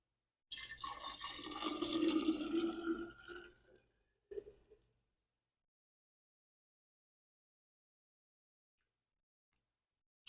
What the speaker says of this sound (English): So I'm just pouring this out into the jars.